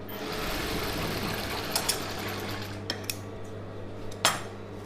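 A USHA sewing machine runs a straight seam on a Patiala pant with a continuous motor hum and stitching, broken by a few sharp clicks and clinks.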